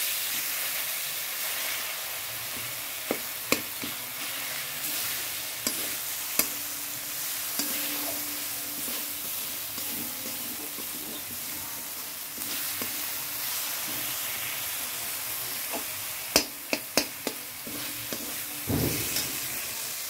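Tomato and spice paste with garlic, cumin powder and chilli frying in a pan, a steady broad sizzle running throughout with occasional sharp clicks and scrapes of stirring, no talking.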